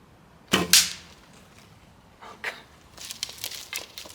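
An old arrow loosed from a White Feather Gallina recurve field bow at a pigeon target, a sharp loud snap and whoosh followed by fainter rustles and light taps, with no talking.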